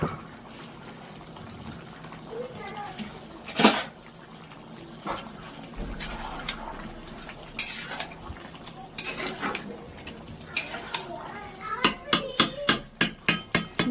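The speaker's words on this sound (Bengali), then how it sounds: "ধনে পাতা আর পুদিনা পাতাটাকে আগে কেটে নেবেন কুচি কুচি করে" A knife chops fresh coriander and mint leaves on a board, with scattered knocks early on building into a fast, even run of sharp close chopping strikes near the end.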